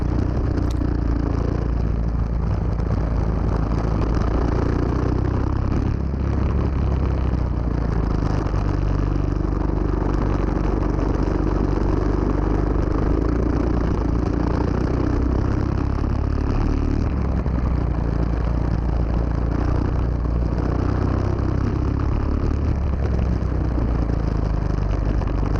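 A GX-UK go kart engine runs continuously and loud through the track corners, droning steadily from start to finish. Its pitch rises and falls with clattering mechanical texture as the kart brakes and slides around each bend.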